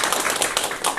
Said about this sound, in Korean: 큰 박수로 강의 청해 듣도록 하겠습니다